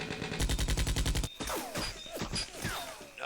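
Gunfire in the Vietnam War game Divided Ground, a fast rhythmic burst of heavy machine-gun shots followed by scattered shots, impacts and whistling rounds, moderately loud.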